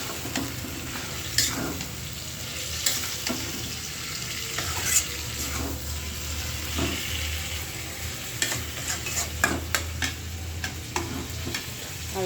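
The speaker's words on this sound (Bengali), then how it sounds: "তো মাংসটা আমি দিয়ে দিলাম।" Meat sizzles in a pan while it is stirred and scraped, a steady close frying hiss under repeated sharp utensil knocks and scrapes, with no talk.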